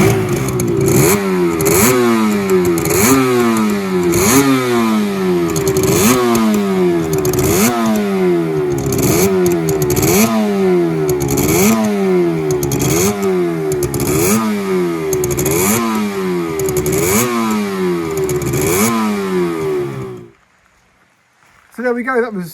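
An old Suzuki RG400 two-stroke motorcycle engine is being recommissioned and runs with rhythmic, repeated revs that rise and fall, loud and close. It cuts out near the end, and it briefly catches again afterward.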